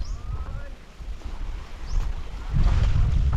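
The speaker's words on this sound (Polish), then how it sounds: "Dość mocno wieje" Wind buffets the microphone in low rumbling gusts that grow stronger toward the end, with faint bird calls in the background, in the Philippines.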